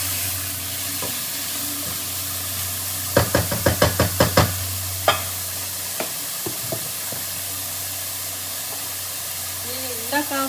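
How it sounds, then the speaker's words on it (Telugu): Capsicum frying in a pan with salt, a steady low sizzle running throughout and a quick burst of sharp spoon knocks and stirring clatter against the pan partway through, close and moderately loud. "తొందరగా ఫ్రై అయిపోతాయి"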